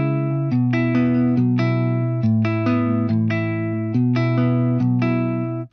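A sampled electric guitar from a Kontakt software library, bridge and neck pickups combined with light vibrato, plays a clean sustained melodic line of overlapping notes, loud and close with no talking.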